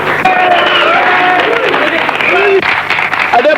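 Loud, steady applause and crowd noise from an audience cheering a speaker's address in a classic Pakistani film, a dense roar of clapping that runs through the whole stretch with voices mixed in.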